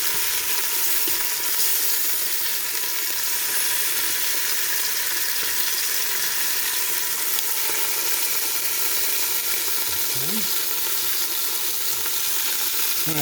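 Chuck roast beef sears in oil in a Ninja Foodi pressure cooker with a loud, steady, hissing sizzle that lasts throughout, plus a few faint scrapes of a utensil and no voices.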